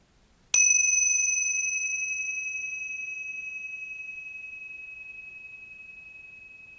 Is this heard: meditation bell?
yes